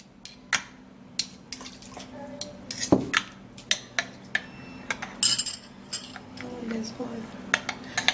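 Melted Vaseline mixture stirred in a container, a series of sharp clinks and scrapes of a utensil against the vessel, close and fairly rhythmic, with faint background noise.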